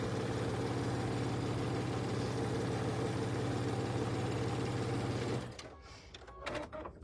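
A sewing machine stitches quilt block strips for a graham cracker quilt, running as a steady, close, continuous hum for about five seconds before stopping abruptly, leaving quieter room noise.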